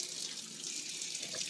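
Water from a tap runs steadily into a sink for soaking freshly harvested broccoli heads, a soft continuous hiss heard close with no talking.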